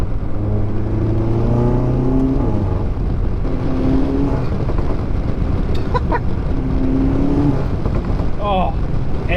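Tuned VW MK7 GTI engine revving under light throttle, its rising and falling harmonic tones sweeping up with RPM, loud and close with a steady drone underneath.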